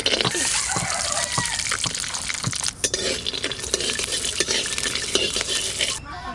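Cashew nuts frying in white oil in a kadai, a steady sizzle broken by frequent metallic clinks and scrapes of a stirring spoon against the pan.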